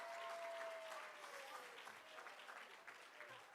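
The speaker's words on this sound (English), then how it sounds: "can we just have a cheer for just being together again?" Gala audience at the Hudson River Museum breaking into applause and cheering, a dense crowd clatter that swells at first and then gradually thins out, with a few shouts and a whistle-like tone over it.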